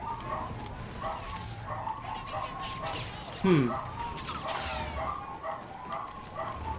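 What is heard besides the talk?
dogs barking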